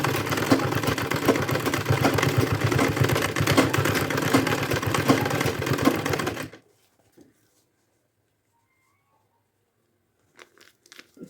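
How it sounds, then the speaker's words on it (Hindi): A sewing machine stitching a bag runs loud and close in a continuous rapid whirring clatter for about six seconds, then stops, leaving near silence with a few faint clicks. "इस तरह से हम सिलते जाएंगे।"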